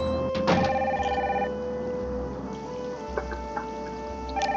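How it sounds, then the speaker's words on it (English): A telephone rings repeatedly in the Nancy Drew: Danger by Design video game, its electronic bell sounding in short bursts over a quiet background, with no talking. "That phone is driving me crazy."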